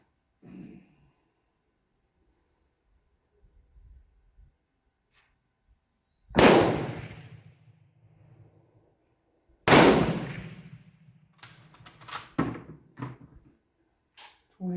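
Two loud, sharp reports from a Mosin Nagant Tula 1939 rifle, several seconds apart, each trailing off in a brief echo, followed by quieter metallic clicks and clanks.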